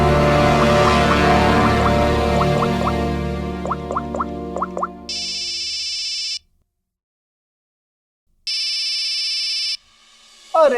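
An electronic phone ringtone sounds in two steady bursts separated by a short silence, following a fading musical passage.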